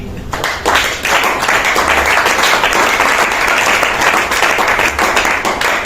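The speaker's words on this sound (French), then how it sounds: "Alors acclamons le Seigneur pour ça." A church congregation at an Easter service applauds together in a loud, dense burst of clapping that fills the room and holds steady for several seconds.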